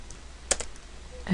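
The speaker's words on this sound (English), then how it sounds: "just hit delete on your keyboard so that you have that little space" Keys tapped on a computer keyboard during graphic editing work, a couple of quiet isolated clicks with one sharper press midway and another near the end, no voices.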